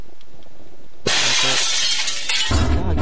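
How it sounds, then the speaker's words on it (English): Glass shatters suddenly and loudly in the horror video game The Crooked Man, a bright crash with tinkling fragments following, then a second impact as a character smashes things. "God, he's smashing everything"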